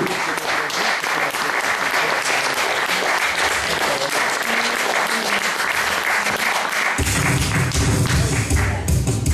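A theatre audience applauds Henri Giraud with steady, dense clapping that stays loud and close throughout, joined by heavier thumping near the end.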